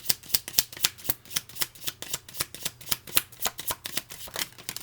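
Tarot cards are riffled and shuffled in quick, steady bursts of crisp flicking close to the ear, with no voice over them.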